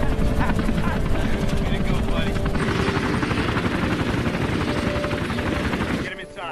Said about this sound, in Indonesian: Setelah keadaan dia terpulih, mereka pun terbang membawa Dieter ke markas.